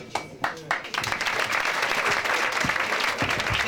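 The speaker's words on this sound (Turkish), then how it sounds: "Sizleri elinize alalım alkışlarla." Seminar audience applauding, a few separate claps quickly building into steady, full applause from a room of people that continues to the end.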